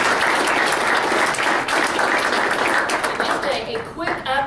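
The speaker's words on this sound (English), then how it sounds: "So give all 3 a big round of applause." A luncheon audience at OCU breaks into a loud, sustained round of applause, dense clapping filling the room throughout, with a voice starting to speak over it near the end.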